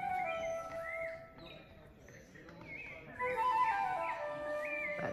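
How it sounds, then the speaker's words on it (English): Birds sing and whistle with varied tuneful phrases over a soft outdoor background at the Ek Balam Mayan pyramids in Mexico, growing busier and louder toward the end. "Don't those birds sound lovely?"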